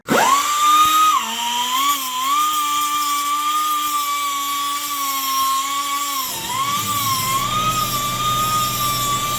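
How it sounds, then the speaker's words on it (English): Power tool grinding off a rivet on the drive chain of a new Yamaha R3 motorcycle, a loud, steady high-pitched whine that shifts pitch partway through as the load changes, running continuously without talk. "Let's go ahead and grind away a rivet on our chain so we can break it with the chain breaker."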